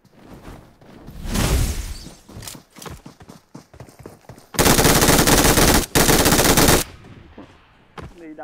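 Gunfire in a battle royale video game, with a burst of single shots followed by two long sustained bursts of rapid automatic fire, loud and close.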